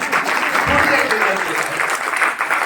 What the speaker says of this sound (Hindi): ताली तो बजा दीजिए एक बार।